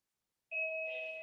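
A two-tone doorbell chime rings once during a home yoga class, starting after a moment of silence and ringing out clearly and fairly close, with no talking over it.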